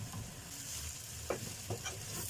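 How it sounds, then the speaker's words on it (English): Beetroot pulp left over from juicing fries with onions in a pan, a dense steady sizzle with a few soft stirring scrapes, close and with no voices. "Fry it with the onions."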